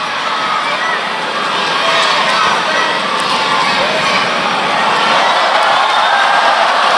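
A large arena crowd cheers and roars at a judo match during the World Judo Championships elimination bouts, a dense, continuous wash of voices that swells slightly toward the end, with commentators talking over it.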